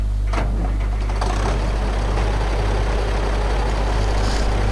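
Tractor engine in the Farming Simulator 2015 video game, a loud, steady low droning rumble throughout with no talking.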